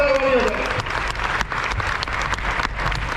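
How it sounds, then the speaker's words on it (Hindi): An audience gives a hearty round of applause at an academy celebration program in Bhilwara, dense steady clapping from many hands with a voice briefly heard at the start. "एक बार अपने लिए जोरदार ताली हो जाए।"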